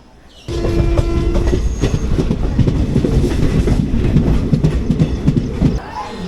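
A moving passenger train on the Kalyan to Mysore route starts up loud and close, holding a steady rumble and wheel clatter with a brief tonal squeal early on.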